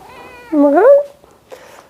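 Domestic cat meowing close by indoors during a stretching session: a soft murmur, then one loud rising-falling meow and a short faint chirp after it.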